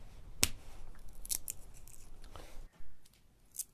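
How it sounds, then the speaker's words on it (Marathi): Peanut pods being shelled by hand, giving sharp, close dry cracks and snaps scattered irregularly over a quiet room. "आता शेंगा सोलायचं काम चालाय."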